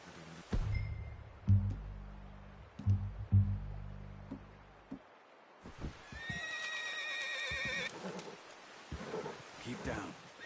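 A horse in Red Dead Redemption 2 gives a loud, close whinny and neigh, with clip-clop hooves and low rumbling sounds in the first half and people talking afterward.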